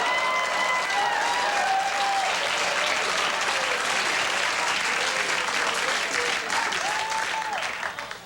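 A late-night TV studio audience breaks into loud, sustained applause, with whistles and cheers scattered through the clapping before it starts to fade at the very end.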